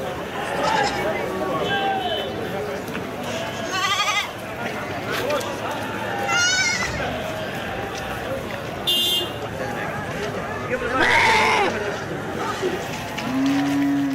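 Goats bleat repeatedly at a busy livestock auction in Nizwa, Oman, their calls rising over constant crowd chatter and the noise of animals and people moving close by.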